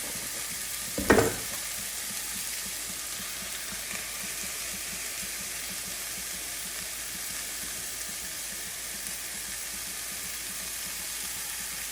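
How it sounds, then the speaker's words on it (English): Chicken sausage and cream sauce frying in a pan give a steady, even sizzle throughout, with one brief louder splash and burst of hiss near the start as the sauce goes in. "we are gonna go ahead and add the entire content of our cream sauce base"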